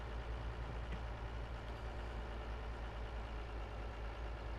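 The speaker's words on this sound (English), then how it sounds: "Do you think there's a funny sound out of the tractor, or does it sound correct?" A tractor engine in Farming Simulator 22 drones at a steady idle, a constant low rumble with no breaks or speech.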